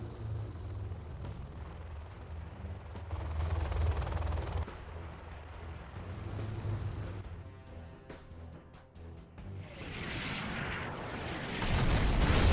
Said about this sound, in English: Artillery from HSN.